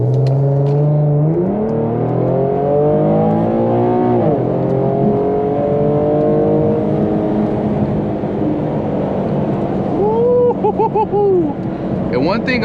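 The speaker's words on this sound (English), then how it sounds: "I just put it in sport mode right now." An Infiniti G37 in sport mode accelerating hard, its engine note climbing through several gear pulls with rising harmonic sweeps, loud and steady throughout, with brief talk near the end.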